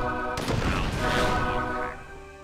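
Gunfire in C&C: Tiberian Sun bursts out as a loud, rapid volley of shots with crackling impacts, fading after about two seconds.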